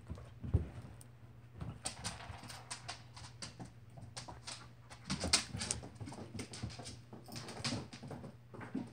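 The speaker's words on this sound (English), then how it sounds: "That would be my dad playing with the dogs." Dogs play with a person indoors, making soft whimpers and whines amid scattered thumps, taps and claw clicks that come in uneven bursts at close range.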